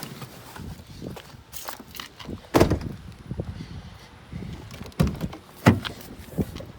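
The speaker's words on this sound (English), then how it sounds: "this door is pretty heavy" A heavy subwoofer box door creaks and thuds as it is pushed open, with a few loud knocks and scrapes against quiet room tone.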